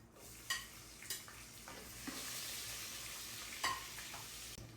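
Onion added to hot oil with bay leaf, cinnamon stick and cloves for biryani, giving a steady close sizzle with a few sharp clinks and scrapes of stirring, no voices.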